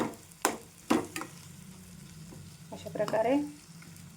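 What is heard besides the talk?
potatoes frying in oil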